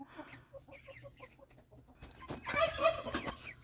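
Small red chickens cluck in short, repeated bursts close by, growing busier and louder toward the end with overlapping calls.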